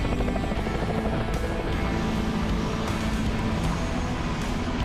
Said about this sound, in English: I also went on a helicopter tour, which was one of the most incredible experiences I've had.